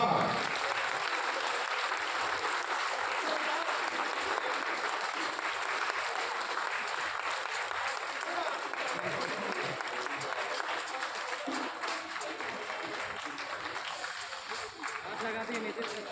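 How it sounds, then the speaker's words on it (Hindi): Continuous applause from an audience at a political commemoration event in India, dense and steady clapping for the full stretch, loud and close, with voices faintly under it. "लगातार तालियां बजती रहनी चाहिए, लगातार।"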